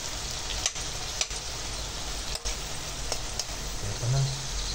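Bitter gourd (ampalaya) being sautéed and stirred in a pan, with a steady close sizzle of frying punctuated by a few sharp scrapes or clacks of a utensil against the pan.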